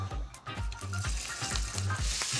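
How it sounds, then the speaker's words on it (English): Loud, steady sizzling of prawns in a hot pan, with crackling and spitting throughout and a few clinks and scrapes along the way. "Anything less than that sizzle, when you put that first prawn in there, don't put them in."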